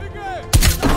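Gunfire in the Call of Duty Black Ops Cold War campaign: a voice is heard first, then a loud, booming shot bursts in at mid-clip, followed by a second heavy report shortly after.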